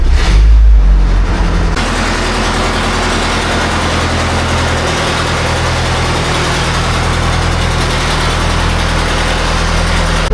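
An Argo amphibious vehicle engine idles loudly and steadily at close range, with a sharper burst in the first two seconds settling into a constant low drone with vibration throughout.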